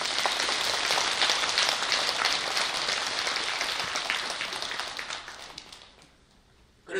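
A temple audience at a Buddhist dharma talk at Bongeunsa gives dense, steady applause that holds strong for several seconds, then tapers off and dies to near silence at the end.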